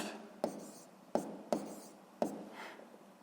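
A pen writing numbers by hand on paper during a physics exercise: four distinct scratchy strokes, each a quick onset fading away, close and quiet against silence.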